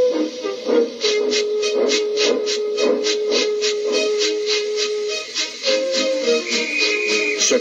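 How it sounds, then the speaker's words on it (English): A steam train hisses and chuffs in steady rapid bursts, with a sustained whistle-like tone running underneath, loud and close. "with much noise and blowing of steam, got ready to back onto the train"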